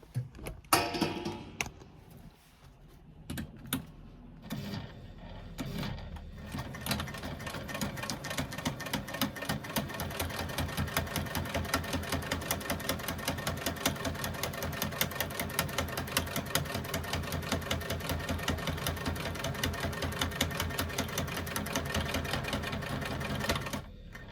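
Sewing machine stitching a zipper seam for a bag with a scant quarter-inch seam allowance, a steady rapid mechanical clatter running continuously after a few brief starts and handling noises at the beginning, close and alone.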